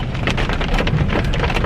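Pouring rain falls steadily and close by, a dense, continuous hiss of drops drumming on surfaces, loud throughout with no talk, while a vehicle waits to be loaded onto ramps outdoors in Missouri.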